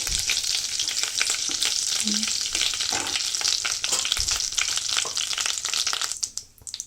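Cumin seeds sizzle in hot butter and oil with a dense, continuous, crackling hiss, close and fairly loud, with a few soft stirring knocks. The sizzle fades toward the end.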